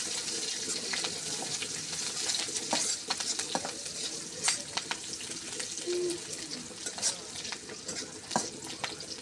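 Chopped onions and green chilies frying in a pan, a steady close sizzle broken by repeated stirring scrapes and light clinks, with no talking.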